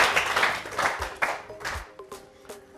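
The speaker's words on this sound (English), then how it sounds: "Clap for yourselves." A classroom of students claps in a short burst of applause, the uneven patter strongest at first and then thinning into a few scattered claps, with faint background sound underneath.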